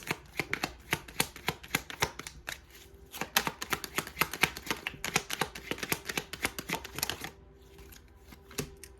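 Tarot cards being shuffled, with quick rhythmic riffles and soft slaps repeating close by for several seconds, pausing briefly midway before continuing and trailing off.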